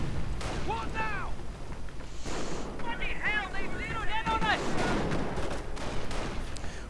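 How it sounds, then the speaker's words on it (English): Gunfire and explosions in a World War II strategy video game battle between infantry squads and a half-track machine gun, with scattered distant crackling bursts over a steady wind-like rush and chirping tones. "supported by the half-track machine gun"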